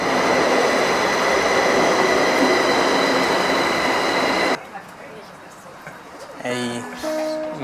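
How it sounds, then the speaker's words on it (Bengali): A train pulls into a station platform, its loud steady rumble and rail noise filling the first half before cutting away to quieter ambience with brief tonal squeals or chimes. "ওদিকে আরেকটা ট্রেন আসলো"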